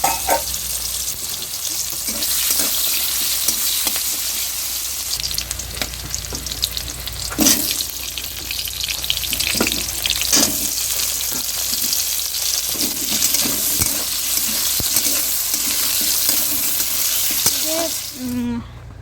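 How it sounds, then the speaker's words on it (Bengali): Potatoes and onions fry in a pan, a steady close sizzle over the whole stretch with scattered stirring scrapes and a brief watery patch near the end. "আলু পেঁয়াজ ভাজা হচ্ছে"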